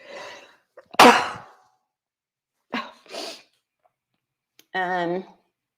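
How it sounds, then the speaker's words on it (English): A sharp, loud sneeze bursts out after a quick intake of breath, followed by a few breathy snorts and a short voiced sound. "I'm gonna sneeze."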